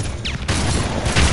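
Pistol fire in the video game Red Faction: a couple of sharp, loud shots burst out over a dense rumbling game soundscape.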